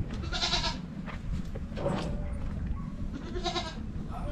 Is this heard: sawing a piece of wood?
no